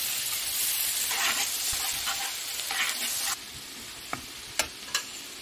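Onions fry in a pan of cooked cumin for Mumbai-style pav bhaji, a loud continuous sizzle with stirring scrapes that drops to a quieter hiss, then a few sharp utensil knocks.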